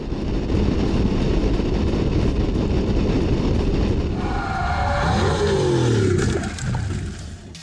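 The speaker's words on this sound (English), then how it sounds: "The racing scenes that appear in the film were filmed on Auto Club Speedway" Race cars on a speedway in a film racing scene, a loud continuous roar of engines passing close by, then easing into shifting whines as the cars pull away.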